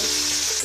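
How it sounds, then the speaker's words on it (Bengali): Ginger hits hot oil for veg ghugni and gives a loud, dense, close sizzle that holds for a brief moment. "এবার আমি আদাটা দেব"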